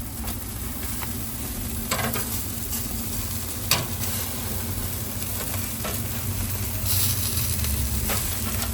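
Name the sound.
jerk chicken frying and being flipped in pan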